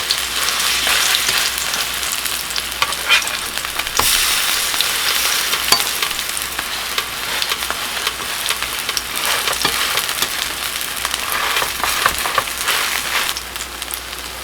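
Spicy kimchi pancake batter fries crisply in a hot pan with a dense, continuous close-up sizzle, scattered crackles and occasional louder spatters, and no voices.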